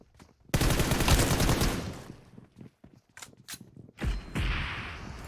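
Gunfire in a video game hide-and-seek match set in a huge school: a loud sustained burst of rapid shots, then scattered clicks and another burst, with no talk over it.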